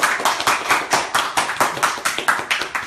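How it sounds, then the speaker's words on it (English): A small group gives brief applause at a Xiaomi Mi Drone presentation, about a dozen distinct sharp claps in a quick, uneven rhythm, close and fairly loud with no talk over them. "And a little bit of applause."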